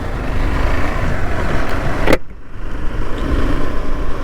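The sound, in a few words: KTM Adventure 390 motorcycle pulling away in first gear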